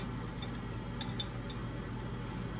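Worcestershire sauce poured from a bottle, a soft continuous trickle of liquid with faint glassy clinks, close and quiet over a low room hum.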